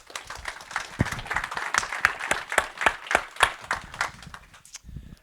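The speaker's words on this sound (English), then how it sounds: "Want to give everybody a big round of applause" An audience claps in a sustained round of applause at a city operations session, a dense patter of many hands with sharp individual claps standing out, fading out at the end.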